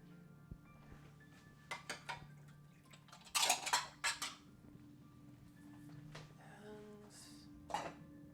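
Dishes, bowls and cutlery clink and knock together in a kitchen cleanup, scattered clatters that are sometimes sharp and sometimes soft, with a louder cluster in the middle over a low steady hum.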